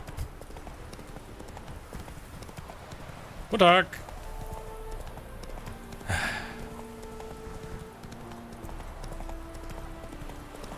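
Horse hooves clip-clop in a fantasy role-playing game, with a sharp neigh and a brief spoken greeting from a game character over a soft ambient background.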